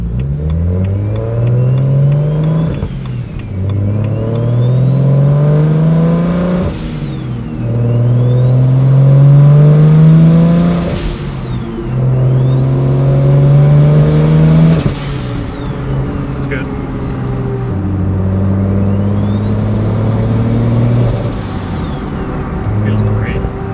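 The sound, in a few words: BMW N54 single turbo car revving loudly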